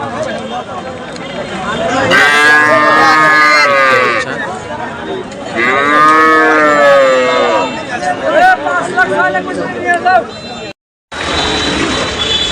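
Cattle at a busy Friday livestock market before Eid, with several loud, drawn-out moos rising over the general crowd chatter and voices of people talking, close and prominent throughout.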